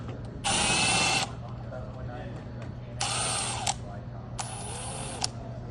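A power driver backs screws out of the panel on an American Standard heat pump water heater, giving three short, close whirring bursts over a steady low hum.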